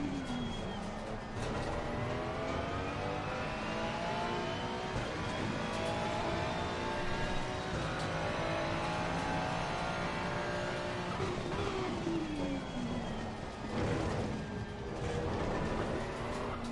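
Ferrari race car at the Zolder 12-hour race, a continuous loud engine roar with rising and falling revs as cars pass close by, steady throughout with no pauses.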